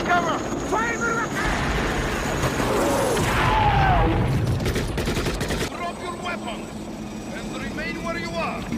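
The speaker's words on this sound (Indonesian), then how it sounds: "helikopter tentara Rusia datang dan menyerang" Rattling gunfire and a heavy Russian military helicopter rumble fill a chaotic battle scene in Afghanistan in a film, with voices shouting and speaking over the din.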